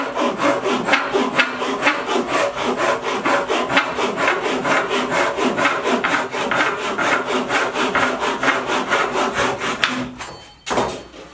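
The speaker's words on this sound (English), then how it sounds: "I need to cut a couple of pieces down" Hand saw cutting a small piece of oak down to size for DIY bench dogs, steady rhythmic back-and-forth strokes close up and loud, continuing for about ten seconds before stopping.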